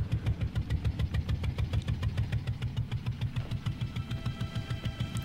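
A boat engine idles with a fast, even low-pitched chugging pulse and faint ticking on top, steady and close throughout.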